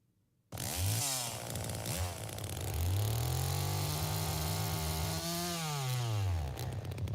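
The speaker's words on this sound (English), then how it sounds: "they gave me a couple of them where the chainsaw is being revved" A chainsaw engine from the video game The Texas Chain Saw Massacre revs loudly after a brief silence, pitch climbing and holding in a sustained roar, dipping between throttle bursts, steady and close.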